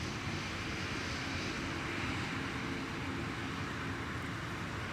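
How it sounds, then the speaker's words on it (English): An Airbus A220 (Bombardier C-Series) jet at Minneapolis–St. Paul Airport gives a steady, broad engine roar at moderate distance. The sound holds constant without a clear rise or fall, and no one speaks. "And we have yet another Bombardier C-Series"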